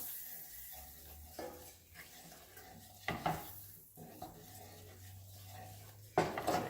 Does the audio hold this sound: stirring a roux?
yes